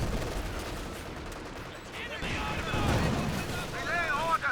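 Rapid machine-gun fire rattles amid dense battle noise in Company of Heroes 2, continuous and fairly loud, with someone talking over it.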